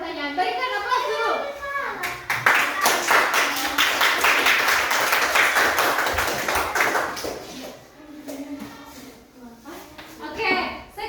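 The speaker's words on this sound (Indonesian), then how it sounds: "Berikan aplaus dulu." Children in a classroom clapping together, a sustained burst of dense, rapid applause lasting several seconds, rising and then fading, with kids' voices chattering before and after.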